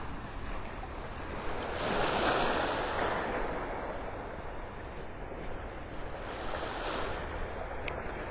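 Ocean surf washing onto a Gulf of Mexico beach at Delnor-Wiggins in North Naples, Florida, a steady wash of breaking waves swelling twice with light wind noise, moderately distant and without talk.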